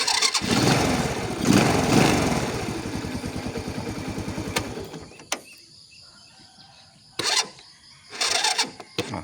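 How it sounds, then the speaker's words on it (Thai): A Lifan motorcycle engine starts on its electric starter, then runs with a rough, rapid, loud idle up close before fading down. Sharp mechanical clicks and clunks follow in the quieter stretch. "สตาร์ทมือง่าย ๆ เครื่องเงียบๆนิ่มๆนะครับ"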